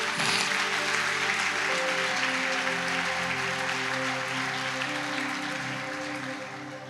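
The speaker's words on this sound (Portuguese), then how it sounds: "Aplaude Jesus aí bem forte" Dense, loud applause from a church congregation during a Portuguese-language sermon, steady and sustained throughout, with sustained musical tones beneath it and no talk over it.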